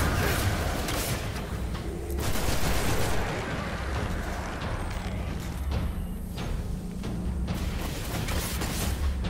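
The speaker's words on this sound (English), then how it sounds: "Who's still shooting me?" Rapid auto rifle fire in the sci-fi shooter Destiny, during a House of Wolves mission: dense, continuous bursts of gunshots with layered impacts and booms, sustained and loud throughout.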